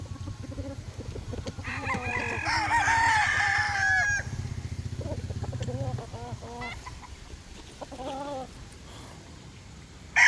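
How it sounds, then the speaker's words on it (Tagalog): Tethered young gamecocks crowing outdoors, with one loud nearby crow followed by further crows and clucks at varying distances, over a low steady background hum. "Yan, yan po yung manok."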